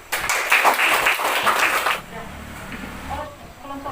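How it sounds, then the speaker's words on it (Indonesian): A classroom of students applauds a group of classmates for about two seconds, a brisk burst of clapping that stops abruptly, followed by a teacher speaking. "Tepuk tangan dulu untuk kelompok."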